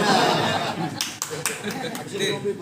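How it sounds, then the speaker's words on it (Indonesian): A short burst of clapping from a small group at a police station, loud and close, with some light chuckling mixed in. "Tepuk tangan dulu, tepuk tangan."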